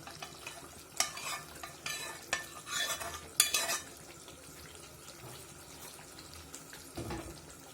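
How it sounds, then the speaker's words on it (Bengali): Chicken pieces dropped into hot oil for a chicken roast and stirred, scattered spoon clatters and wet scraping with bursts of sizzle, fairly quiet and close, no talking. "চিকেনগুলো দিয়ে আমি একটু ভালোভাবে নাড়িয়ে নিব, একটু কষিয়ে নিব"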